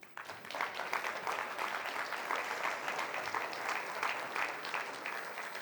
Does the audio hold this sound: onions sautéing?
no